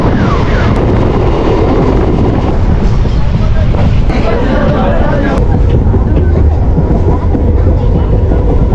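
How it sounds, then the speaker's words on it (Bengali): An Indian local train on the Bangaon line runs at speed, heard from on board as a loud, continuous rumble and rattle of wheels and carriage with heavy wind buffeting. "ইন্ডিয়ার লোকাল ট্রেনের যে এত স্পিড বলে বোঝানোর মতো না"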